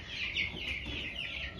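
A broody hen clucking in a steady run of low, throaty calls, fairly faint and alone with no voices.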